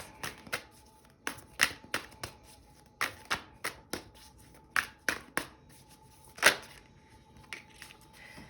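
Oracle and tarot cards are shuffled and drawn by hand, a string of crisp, close riffling snaps and flicks in an uneven rhythm, with one louder burst near the end and quiet gaps between.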